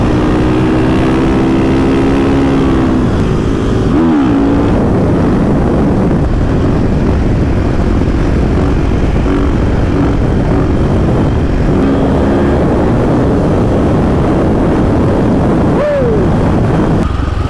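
A 2024 KTM 500 EXC-F motorcycle engine drones loudly and continuously while being ridden, with brief rises in revs and heavy wind rumble pressing on the microphone.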